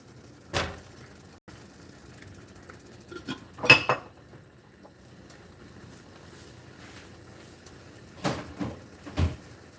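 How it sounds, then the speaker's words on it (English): Dishes and cutlery clatter as they are loaded into a dishwasher, with several sharp clinks and clanks spaced apart, the loudest bunched near the middle and end, over a quiet indoor background. "I think I'm going to be throwing them in the dishwasher"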